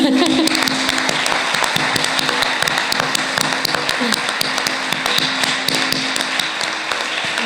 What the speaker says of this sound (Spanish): un aplauso para vosotros y para ellos